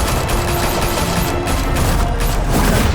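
Sustained automatic gunfire from a shootout in the Batman Telltale video game, a loud dense fusillade of rapid shots running unbroken from start to finish.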